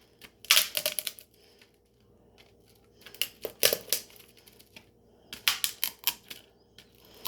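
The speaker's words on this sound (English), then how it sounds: "You can hear those seeds popping." Parsley and cilantro seeds being pressed: clusters of sharp little crackles and pops come in three bursts, close and crisp, separated by quiet pauses with no talking.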